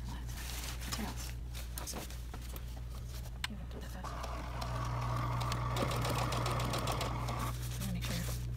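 Sewing machine stitching flat fabric, starting with a short back stitch and then running faster with a sustained, steady mechanical whir; someone talks over the machine.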